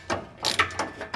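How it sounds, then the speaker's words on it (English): A 1/2 inch ratchet with a short 15/16 socket tightening bolts on a sliding fifth-wheel hitch in a Ram truck bed, a few quick close clicking pawl strokes. "I have a short well 15/16 on a 1/2 inch ratchet here"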